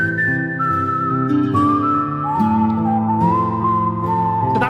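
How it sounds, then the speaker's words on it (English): Human whistling recorded as an isolated song track, a steady sustained melody with gliding pitch changes, heard alone at close range. "all the whistling you hear in the song is by yours truly"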